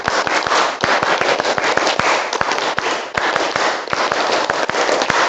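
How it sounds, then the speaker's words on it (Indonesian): A classroom of students in Indonesia performs the scout clap pattern (tepuk pramuka) together, a dense, loud run of sharp hand claps in a repeating rhythmic sequence over a steady wash of many hands, lasting throughout. "Tepuk pramuka."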